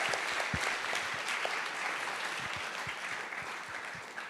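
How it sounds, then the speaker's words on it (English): An audience at a school symposium gives steady applause, a dense continuous clapping that holds at even loudness and fades slightly toward the end. "let's give them one more round of applause"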